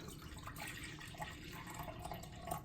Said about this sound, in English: take your juice and you're gonna pour 1 cup out into a measuring cup